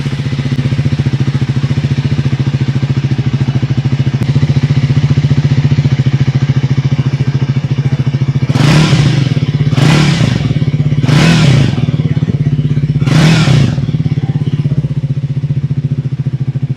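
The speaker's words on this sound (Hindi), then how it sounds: "अब दोनों बाइक का एग्जॉस्ट सुन लेते हैं।" A Triumph Speed 400 motorcycle idles with a steady low rumble, then the throttle is blipped four times in quick succession, each rev rising sharply and falling back.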